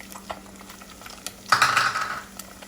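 Chopped onion tipped into a hot pan for bacon fried rice, starting a sudden sizzle that swells and holds steadily for about a second after earlier light clinks and rattles, close and fairly loud, no talk.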